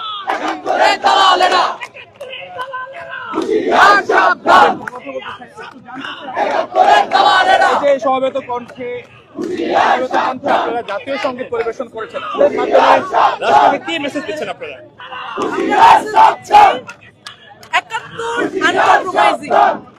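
A crowd chanting slogans in unison at a rally at the foot of the Raju Sculpture, loud rhythmic call-and-response phrases in repeated bursts with short gaps between them.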